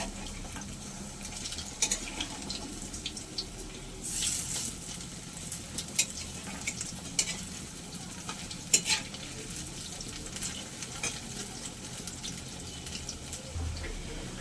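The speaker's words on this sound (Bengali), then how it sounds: "কোপ্তাগুলো ততক্ষণ আমার ভাজা হতে থাক।" Spinach koftas frying in oil give a steady close sizzle and bubbling for the whole stretch, with occasional sharp clicks and a brief louder hiss partway through.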